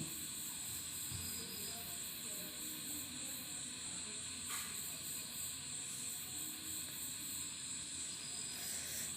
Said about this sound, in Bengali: আমি এখন ডিমগুলো খুব ভালো করে ভেজে নেব